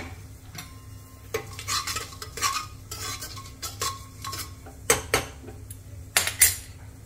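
Cardamom, black pepper and fennel roast in hot ghee in a pan, a faint sizzle broken by repeated clinks and scrapes of a metal spoon stirring against the pan.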